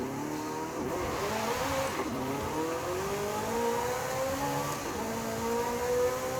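A Hot Wheels car in Forza Horizon 5 accelerates hard, its engine note climbing steadily through rising gear sweeps with brief shift dips, loud and continuous with no talking.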